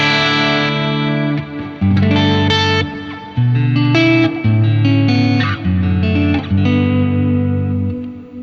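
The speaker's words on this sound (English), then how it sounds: "I love the modulate reverb setting on it." An electric guitar plays sustained chords and notes through a reverb pedal on a modulated reverb setting, loud and close, with shimmering wash and tails ringing out between strums.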